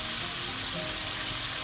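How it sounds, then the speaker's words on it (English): Lamb achar gosht with chilies simmering on low heat in a pot, a dense, steady sizzling and bubbling hiss, close and continuous, with no voices. "I'm going to let it simmer now on low heat for 10 minutes"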